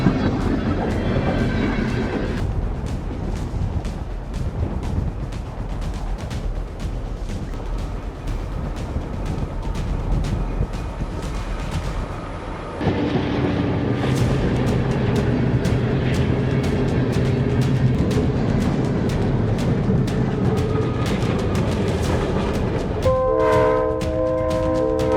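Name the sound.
train plowing through snow on railway tracks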